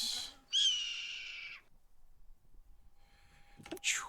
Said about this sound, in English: I love the hawk scream.